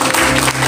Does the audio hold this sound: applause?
yes